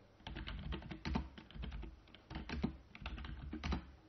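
Keys clatter on a computer keyboard in a quick, uneven run of close taps and short pauses while text is entered at a Linux command line.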